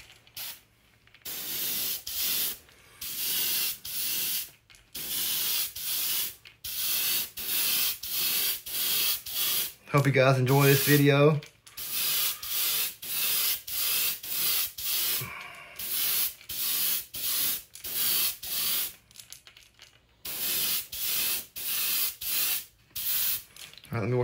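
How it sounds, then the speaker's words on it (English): A spray gun hisses in repeated short bursts with brief pauses between passes, close and steady, spraying paint onto a crankbait fishing lure; a person speaks briefly midway. "I'm just gonna spray it on the bait."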